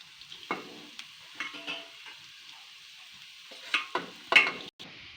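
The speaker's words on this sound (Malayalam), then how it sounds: "ഇതിലേക്ക് വാഴക്കൂമ്പ് അരിഞ്ഞു വെച്ചിരിക്കുന്നത് ഇടാം." Chopped banana flower dropped into a pan, giving a faint sizzle with a few scattered scraping stirs and clinks, quiet and close with no talking.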